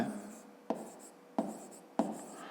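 A pen writes numbers by hand during a fifth-grade maths exercise, with short scratchy strokes in bursts separated by three sharp taps, close and quiet.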